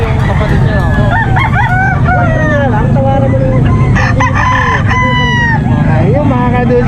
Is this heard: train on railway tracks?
no